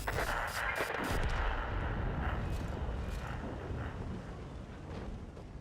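Tank cannons firing in World of Tanks, heavy booming shots and rumbling battle noise filling the scene continuously, loud and dense with a faint voice briefly under it.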